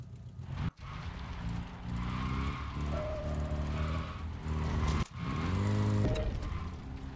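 Engine of a vehicle being driven in the video game Call of Duty, a steady loud drone with rising and falling engine pitch and brief tire noise.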